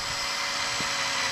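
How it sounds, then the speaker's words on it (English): A drill bores into the ignition lock cylinder of a 1990s Ford Ranger, giving a steady, close, high-pitched whirring grind that runs unbroken with no talking. "now we're going to drill out this ignition"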